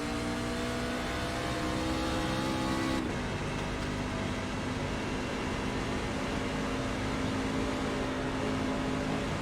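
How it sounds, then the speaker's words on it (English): A constant roaring engine drone with a brief pitch shift early on, continuous and loud, from a racing truck's wheels spinning in a video game race at Atlanta. "You can hear a little bit of wheel spin on Jared."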